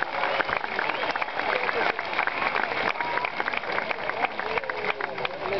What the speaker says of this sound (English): So we need to applaud them once again.